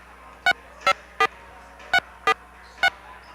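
Six short electronic keypad tones in an uneven sequence, each a crisp beep, over a quiet background hum.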